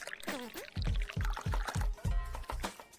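Tea being poured in the video game Dave the Diver, a run of short liquid splashes and glugs repeating in quick rhythm, close and fairly loud, with no talk over it.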